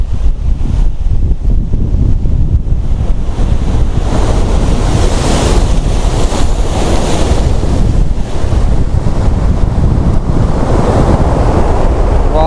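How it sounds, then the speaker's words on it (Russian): Big sea waves crash and roll onto the shore at Simeiz under strong wind, a loud continuous surf roar with wind buffeting the microphone throughout. "Какие волны крутые."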